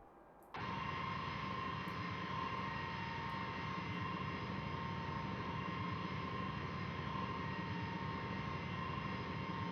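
Tupolev Tu-154M landing rollout at Toulouse in a flight simulator: a steady, loud jet engine roar with a sustained whine kicks in abruptly after a brief quiet start and holds constant throughout.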